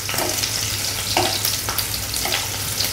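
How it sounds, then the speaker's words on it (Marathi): Onion sautés in a pan for a Vidarbha-style brinjal-potato curry, giving a steady close sizzle and crackle with a few soft stirring scrapes, no voices. "पहिले कांदा थोडासा परतून घेऊया"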